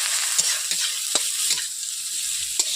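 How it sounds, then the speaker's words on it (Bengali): Chopped onions fry in oil with panch phoron spices, giving a constant bright sizzle. Several spatula stirs scrape the pan at irregular intervals over the hiss, close and clear, with no voices. "এরপর পেঁয়াজ কুচি দিয়ে দিচ্ছি একটু বেশি করে পেঁয়াজ কুচিটা দিয়েছি"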